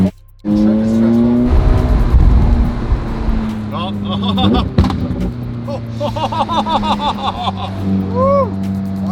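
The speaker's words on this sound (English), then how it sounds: "Why'd you have to do such a spicy downshift at that time?" A race car engine downshifts hard: a loud engine roar drops abruptly, then revs blip and climb in quick rising sweeps with some tire squeal, close and dominant, with voices talking over it.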